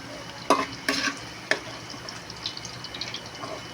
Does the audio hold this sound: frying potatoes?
yes